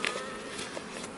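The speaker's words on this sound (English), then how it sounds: "The bees that are living in here cannot get out." Honeybees in a small hive box, sealed in behind newspaper while two hives are combined, give off a soft, steady, faint buzzing hum with no voices.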